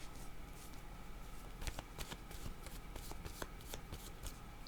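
Oracle cards are shuffled by hand in quick, crisp riffling bursts that repeat several times, close but fairly quiet against a soft room hiss, with no speech.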